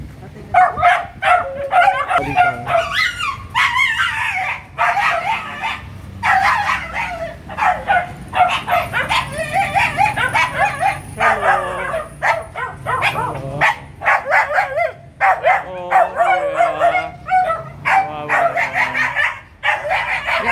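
Dogs yip and bark repeatedly outside a mobile refugee center in Quezon City amid lively overlapping talk, with a few higher whimpering cries mixed into the busy chatter.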